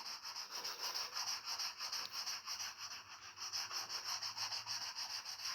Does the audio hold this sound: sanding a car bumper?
yes